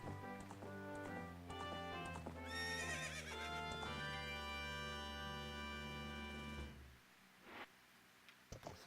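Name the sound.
horse neighing and hooves in Zelda: Ocarina of Time video game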